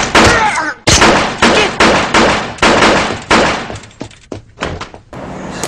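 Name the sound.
pistol gunshots firing rifle rounds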